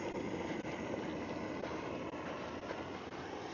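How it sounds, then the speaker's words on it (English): A Jetboil Flash camping stove burner roars in a steady, broadband rush while boiling water, close and constant with no talking over it. "The jet boil flash is already boiling."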